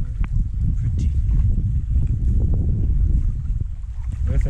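Boat moving along a river stream at Robin's Bay, St. Mary, Jamaica, with steady low rumbling water and wind noise buffeting the microphone, and faint voices under it.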